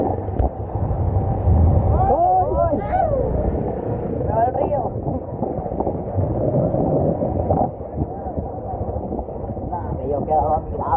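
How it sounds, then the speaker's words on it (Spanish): The flooded Rosario river rushing past in a rumbling roar with gusts of wind across the microphone, while excited voices shout and talk over it throughout. "¡Se va el río!"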